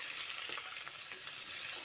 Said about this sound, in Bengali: এঁচোড়টা দিয়ে আলুর সঙ্গে আরও খানিকক্ষণ ভেজে নিচ্ছি।